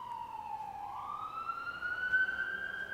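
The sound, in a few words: ambulance siren passing in the city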